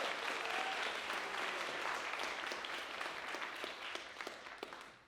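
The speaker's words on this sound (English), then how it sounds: "Yes, clap." A university thesis-competition audience claps in a warm round of applause, dense at first and then thinning into scattered individual claps as it fades toward the end.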